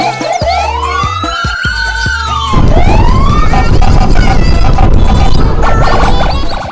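A toy police car siren wails in rising and falling sweeps, then shifts into a louder, harsher electronic siren pattern that continues steadily to the end.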